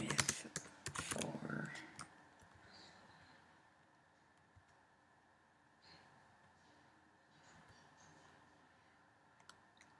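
Rapid bursts of clicking on a computer keyboard while writing code in Xcode, loud and close for the first two seconds, then sparse faint taps over quiet room tone.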